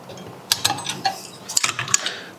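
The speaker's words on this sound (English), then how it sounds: "And let's take the fan off." Metal parts clink and rattle as the fan is removed from a Goldshell XT Box crypto miner, with a series of sharp irregular taps and light clatter close by, no talking.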